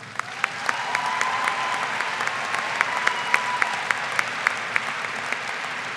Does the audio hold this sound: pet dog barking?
no